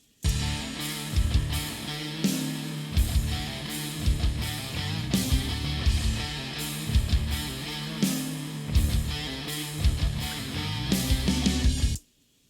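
Full band intro for a worship song, with guitars, bass and drums playing together in a steady driving groove, drum hits punching through the mix before it stops cleanly at the end.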